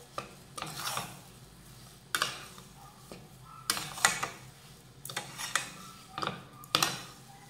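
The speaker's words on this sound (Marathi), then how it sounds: "तर आता ही साखर व्यवस्थित मिक्स करून घेऊयात।" Sugar being stirred into mango sheera in a pot, giving scraping, rasping strokes in bursts of about a second each, repeated several times at close range with no talk.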